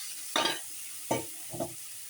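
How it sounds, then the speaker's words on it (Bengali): Garlic paste, cumin, chilli and turmeric powder fry in a pan as water is added, giving three short sizzling, scraping stir bursts over a faint background hiss. "এখন একটু পানি দিয়ে দিই মশলা"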